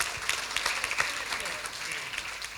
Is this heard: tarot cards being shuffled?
no